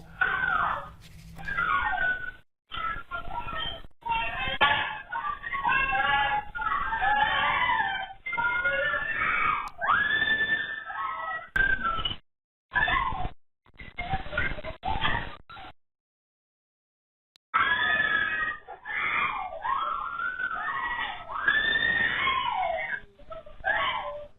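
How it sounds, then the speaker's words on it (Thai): A child screams and cries repeatedly during a dog attack by an American Bully, captured on a CCTV recording; shrill, wavering wails come in bursts with brief silent dropouts between them. "นี่และนี่คือนาทีตอนที่เด็กกรีดร้องเนี่ยนะฮะ"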